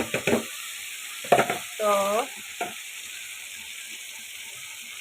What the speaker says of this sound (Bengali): এই মশলার সাথে বুটের ডালটা আমি কষিয়ে নিব